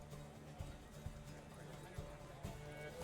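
Horse hooves clop in a steady, evenly spaced beat of four or five distinct strikes over a low background bed in The Witcher 3, a moderately close but quiet gallop.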